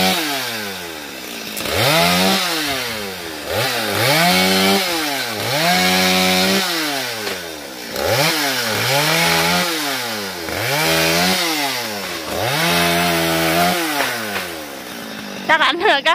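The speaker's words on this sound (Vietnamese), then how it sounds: "Là cây mận An Phước nữa nên anh Hiền cưa nhá nhẹ nhẹ" A chainsaw cuts through an An Phuoc plum tree with repeated rising and falling revs every couple of seconds, loud and continuous throughout.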